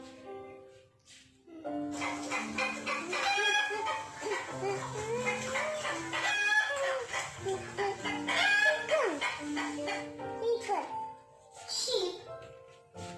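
A toddler's voice imitates a rooster crowing, several drawn-out, rising and falling calls lasting a few seconds, fairly close in a quiet room, with brief childish sounds around them.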